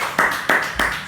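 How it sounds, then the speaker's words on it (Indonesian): Children in a classroom clap their hands in four sharp, evenly spaced bursts, close and loud with no talking. "Tepuk tangan anak-anak."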